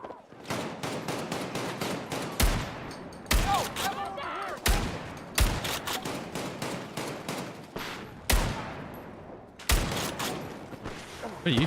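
Rapid bursts of gunfire from a multiplayer shooter video game, dense repeated shots in clusters with short pauses, loud and close, continuing steadily through the stretch without talk.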